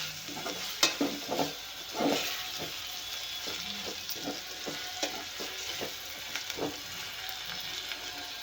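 Tomatoes, onion and brinjal fry in hot oil with a continuous close sizzle, broken by soft scraping stirs and occasional spoon knocks, and no one speaks.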